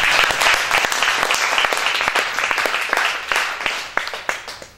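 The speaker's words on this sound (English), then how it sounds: "Let's give a mighty clap of praise for God." A church congregation claps in praise, loud and dense at first with crisp individual claps, then thinning into scattered claps toward the end.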